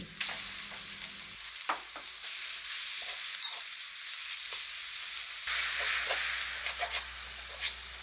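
Pork stir-fried with chili, garlic and holy basil sizzles steadily in a hot pan, with scattered scraping clicks of stirring and brief louder bursts of spattering oil, close and with no voices.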